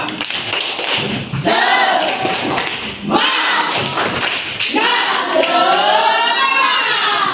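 A class of schoolchildren claps hands together in a rhythmic group cheer, loud and close, mixed with their excited voices chanting and shouting along throughout.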